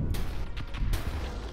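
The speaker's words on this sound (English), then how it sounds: "While the Starbase does all the real work with the mass drivers." Starbase mass drivers firing in Stardrive 2, a rapid series of sharp booming shots over a dense rumbling battle bed, three or four distinct cracks in quick succession.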